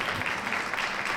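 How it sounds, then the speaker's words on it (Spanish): Brief burst of dense audience applause at a women's leadership forum, even and sustained with no voices over it. "Un aplauso para ella"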